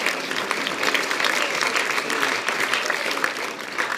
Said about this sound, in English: We can clap hands to the Lord.